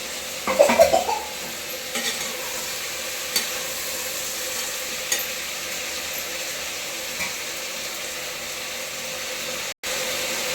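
Fresh green peas stirring and frying in oil in a pan for pulao, an initial burst of sizzling and spoon clatter settling into a steady soft sizzle with occasional light scrapes.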